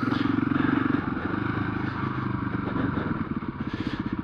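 A Husqvarna FE501 dirt bike ridden over slippery ground, its engine a steady, close, throbbing drone with small rises and dips and some clatter across the whole stretch.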